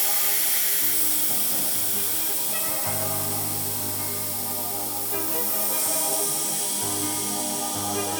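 On a freshly built Nissan R32 GTR engine fitted with HKS Vcam, excess oil-system pressure escapes with a loud, continuous close hiss that holds for several seconds with slight surges.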